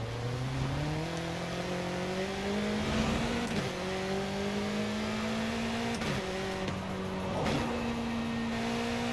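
A BMW M8 GTE race car in Forza Horizon 5, its engine climbing through rising revs with sharp, crackling downshifts punctuating the pitch several times, loud and close.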